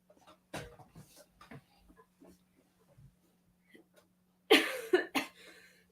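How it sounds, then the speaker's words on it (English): Scattered quiet sounds lead to a burst of two harsh coughs near the end, close and loud, over a faint steady hum. "Now you're going to cough the whole stream."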